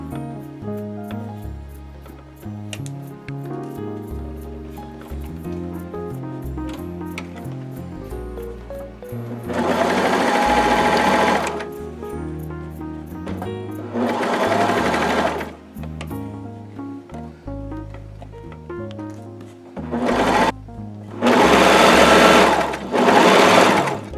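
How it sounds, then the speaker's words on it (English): Sewing machine stitching the front seam of a bodysuit, with several loud bursts of rapid whirring stitches separated by pauses, while music plays steadily in the background. "let's take this over to the sewing table and start sewing"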